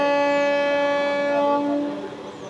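A train arrives at Galsi railway station, sounding a long, steady horn blast nearby over a low rumble that slowly fades.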